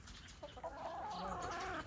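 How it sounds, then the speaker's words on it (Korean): Chickens cluck in a short series of soft, irregular calls at a farm while being fed leftover meat, heard close against a steady low background hum with no talk. "닭들 줬더니 닭들이 다 먹네요"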